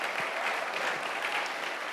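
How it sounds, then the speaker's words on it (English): An audience at the Techstars Tulsa Demo Day breaks into steady applause for the funders, a full, even wash of clapping throughout. "Let's give it a clap up for our funders."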